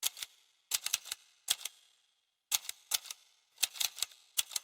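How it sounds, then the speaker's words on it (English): A solo typewriter sound-effect track plays bursts of sharp, dry key clacks in quick irregular clusters, separated by short silent pauses, with nothing else underneath. "This track right here, the typewriter sound effect."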